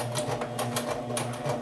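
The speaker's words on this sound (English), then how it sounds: "just take it to your sewing machine and start and end your stitch for the back stitch" A domestic sewing machine runs steadily while stitching fabric pieces for a back stitch, its fast mechanical clatter loud and close with a continuous low motor hum and no talk.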